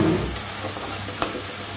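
Chicken gizzard, liver and wings sautéing in a pan as a spatula stirs them, a loud continuous sizzle with a couple of brief scrapes and knocks.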